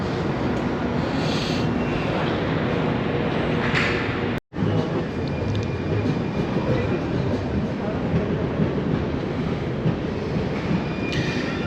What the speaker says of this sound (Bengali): এইটা হলো সেই ট্রেন যে ট্রেনে করে আমরা বর্ডারে যাব।